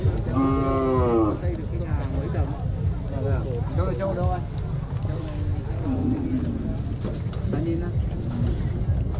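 A long-horned water buffalo at the Cốc Ly buffalo and cattle market in Bảo Thắng, Lào Cai, gives a loud drawn-out moo, then softer lowing, over constant crowd chatter and a low rumble.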